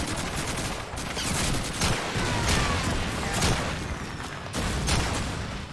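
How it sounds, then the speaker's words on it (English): Dense gunfire from Call of Duty 2 rattles on without a pause, with overlapping rifle and machine-gun bursts and heavy booms all loud and close. "There's somebody up there shooting me"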